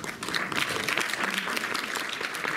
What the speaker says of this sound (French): Vous applaudissez vous-même, hein, vous applaudissez vous-même.